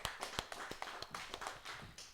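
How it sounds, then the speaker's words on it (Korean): Congregation clapping together in a Korean Full Gospel church Sunday service, a dense round of hand claps with sharp, closely spaced peaks that holds steady through the short burst. "하나님께 영광의 박수 드리겠습니다."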